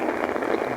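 Heavy monsoon downpour over waterlogged fields in Mandi Bahauddin, a dense, steady hiss of rain close by with no talk.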